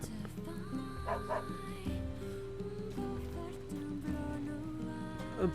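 A dog yips and barks a few times in the video game NieR Replicant, the small bright barks set over steady game music.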